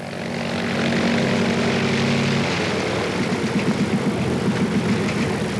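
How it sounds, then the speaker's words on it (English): Propeller engines of aerial oil-spill spraying planes drone loudly and continuously, a steady low hum that turns into a pulsing throb partway through. "The aerial spraying planes on standby are now instructed to spray the oil at sea with dispersant."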